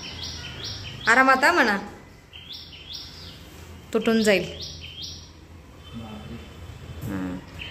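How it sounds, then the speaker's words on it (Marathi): An outdoor bird sings repeated bright, rising chirps throughout, fairly clear and steady, while people talk nearby in two louder bursts over it. "पक्षी किती छान ओरडतोय बघ."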